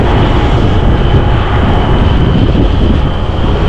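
Strong wind roars across the microphone on the road to Mui Ne, a loud, unbroken rushing buffet that swamps everything else for the whole stretch.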